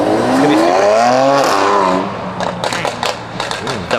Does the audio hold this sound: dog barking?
no